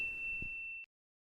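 A single bright bell-like ding rings out with a sustained tone, then stops abruptly, leaving silence.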